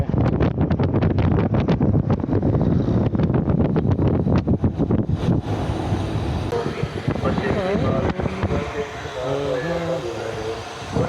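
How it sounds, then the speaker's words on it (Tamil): A strong crosswind buffets a cyclist's microphone on a road ride between Tamil Nadu and Kerala, a loud gusty roar for the first five seconds that then eases as voices talk over the lingering wind. "கிராஸ் விண்டு வேறு லெவலில் அடிக்குது"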